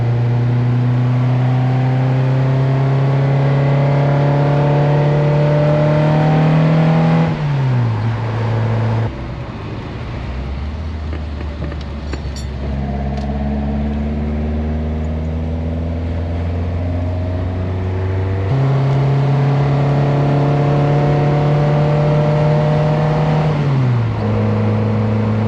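A Toyota KE70 Corolla engine revs hard and loud, holding high steady revs, dropping to a lower idle, then climbing back up again in a sustained, close-up roar with no talking.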